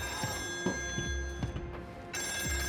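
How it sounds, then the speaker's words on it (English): An old telephone bell rings in a steady, rapid metallic trill with a sharp, buzzy tone, heard alone and fairly quiet, recorded from vintage phones for the audio of the horror game Still Wakes the Deep. "you ordered some phones off eBay to get that sort of old phone ring recording"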